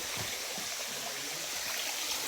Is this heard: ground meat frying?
no